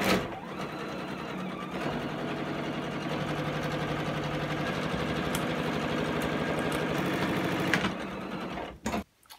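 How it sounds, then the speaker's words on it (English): Sewing machine stitching fabric pieces for a quilt block, a steady close mechanical whir running continuously for several seconds before stopping abruptly near the end. "I'm going to sew our purple one again to the right side."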